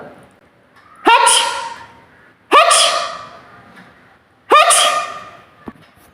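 A voice imitates sneezing three times, each a sharp, loud burst followed by a trailing breathy release, spaced evenly apart.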